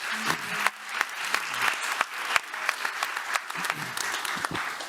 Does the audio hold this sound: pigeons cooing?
no